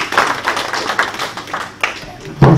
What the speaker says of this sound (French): Je vous demande de l'applaudir, c'est un artiste.